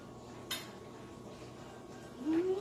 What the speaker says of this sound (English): I'm going to go ahead and stir that in